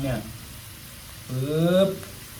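Mussels stir-fried with holy basil and oyster sauce in a hot pan, a steady low sizzle running under a voice talking close by.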